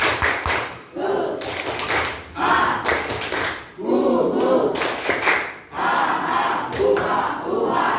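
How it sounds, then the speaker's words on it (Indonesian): A classroom of sixth-grade pupils performs a rhythmic spirit clap, bursts of clapping and chanting voices repeating in a steady pattern of grouped claps, loud and close, with the whole class joining in together. "Tepuk semangat."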